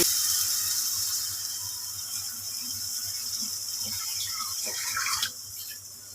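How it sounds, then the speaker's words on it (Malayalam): Water poured into a mixie (blender) jar and swished around to rinse it while making Kerala moru curry, a steady close splashing wash with a brief louder slosh near the end. "ഇനി മിക്സിയുടെ ജാറ് കലക്കി ഇച്ചിരി വെള്ളം കൂടെ ഒഴിക്കുക."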